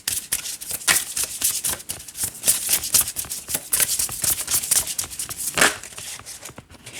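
Oracle cards being shuffled by hand, a dense run of soft, rapid riffling and flicking bursts that carries on steadily and close up for several seconds, with no voice over it.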